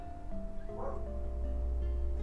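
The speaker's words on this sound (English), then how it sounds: "You might hear my dogs in the background" Dogs barking somewhere in a home, faint and distant, a few muffled yips in the background over a low steady hum.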